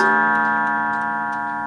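A 1930s eight-day striking mantel clock in an oak case rings with a sustained metallic chime tone that slowly decays, with faint regular ticks heard beneath it, close and clear.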